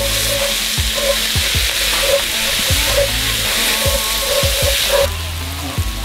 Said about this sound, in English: I'll mix that in until I get that